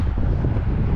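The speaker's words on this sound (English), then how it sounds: "It is windy today and it is cold," Wind buffeting a microphone outdoors on a cold, windy day in a neighborhood, a loud low rumbling roar that fills the whole second with uneven gusty pulses.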